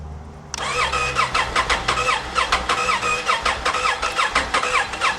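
An old 1980s motorbike engine cranks repeatedly in a fast, steady rhythmic churn, close and loud, struggling to catch without firing into a run.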